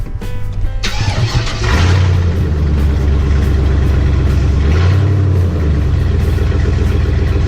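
A project truck engine cranks briefly and fires up, then settles into a loud, steady near idle with one brief rev partway through.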